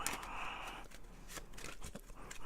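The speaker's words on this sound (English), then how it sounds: "we're just going to just shuffle this deck here. So I'll give it a few overhands" A deck of playing cards gets a few overhand shuffles by hand, close-up, with soft papery riffling and slaps in irregular bursts and no talk.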